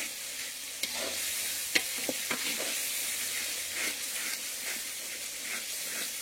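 Chicken pieces frying with spices in a hot kadai, a continuous loud sizzle with scraping stirring strokes and occasional sharp clicks of the spoon against the pan, no voices.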